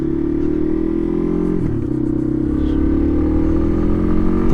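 A 2012 Yamaha XT250 motorcycle accelerating on a highway, its engine droning loudly and continuously, with the pitch briefly dipping at a gear change and then climbing steadily under wind noise.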